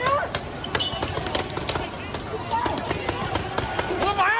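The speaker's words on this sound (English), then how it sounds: "That's the sound of Hong Kong police breaking shit and shooting pepper guns at protesters." Chaotic street clash between Hong Kong police and pro-democracy protesters, with sharp pepper-gun shots and banging over a dense roar of crowd shouting and running feet, loud and continuous.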